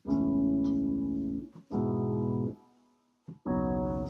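Three sustained, low, muddy chords played on a keyboard, each held about a second with short gaps between them, heard alone.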